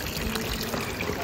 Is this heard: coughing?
no